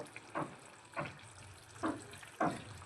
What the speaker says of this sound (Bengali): চিনিটা খুব ভালোভাবে গ্রেভির সঙ্গে একটু নেড়ে ছেড়ে নেব